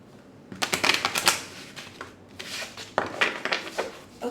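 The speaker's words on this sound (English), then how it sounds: "One more shuffle." Tarot cards are shuffled by hand in several quick riffled bursts, crisp flapping and snapping sounds close up, with brief pauses between bursts and no talking.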